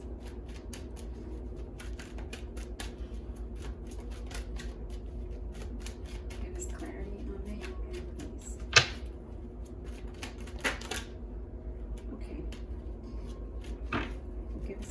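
Tarot cards being shuffled by hand, a faint, steady papery rustle with scattered soft taps and a few sharper clicks, heard alone without talk.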